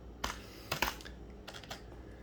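Typing on a worn, shabby computer keyboard, a short burst of close, uneven key clacks in small clusters, fairly quiet and with no voices.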